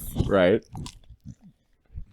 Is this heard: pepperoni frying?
no